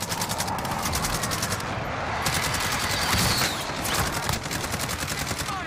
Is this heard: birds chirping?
no